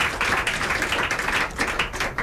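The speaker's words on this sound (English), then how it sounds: "Make una clap for him now" Audience clapping in a studio during a Nigerian radio and TV call-in programme, a dense burst of many hands applauding steadily and fairly loudly for about two seconds, with no talk over it.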